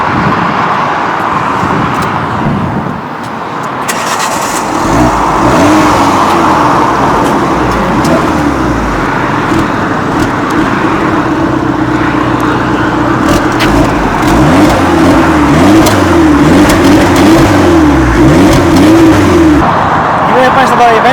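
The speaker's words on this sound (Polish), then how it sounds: "za chwilę usłyszycie jak ten silniczek pracuje" An Alfa Romeo Giulietta 1.4 TB MultiAir engine idles, then revs up repeatedly with rising and falling pitch, loud and close, ending back at a steady idle.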